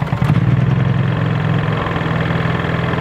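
A Honda EU3000 generator hums in eco mode, a steady mid-low engine drone with a slightly uneven start, holding even and moderately loud throughout with no talk.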